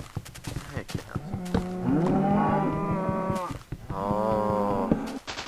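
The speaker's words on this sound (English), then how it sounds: "Hey, cows." Cows mooing in the video game Minecraft, several drawn-out moos close by, separated by clicking game sounds.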